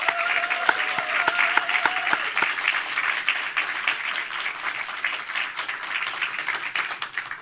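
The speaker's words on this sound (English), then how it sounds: "Another massive round of applause for everyone in the first session." A room full of people at a thesis screening gives sustained, dense applause with a few distinct sharp claps, steady throughout with faint background talk.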